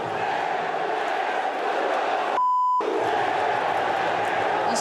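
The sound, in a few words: Vasco supporters chanting insults at coach Maurício Barbieri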